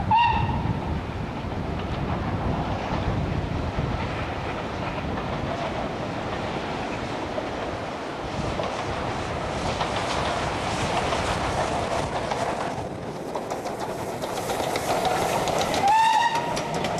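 A Lord Nelson steam locomotive on the East Lancashire Railway shuttle to Ramsbottom passes with a sustained loud rumble of wheels and carriages, and a steam whistle sounds at the start and again near the end.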